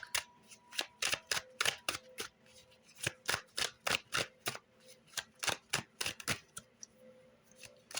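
Quick, crisp riffling snaps of a tarot card deck being shuffled up close, repeated in a dozen or more bursts with short pauses between them.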